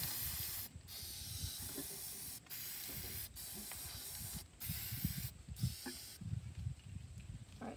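Spray paint hissing onto game controller parts for hydro dipping, several sustained close bursts separated by short pauses, with faint handling noises underneath.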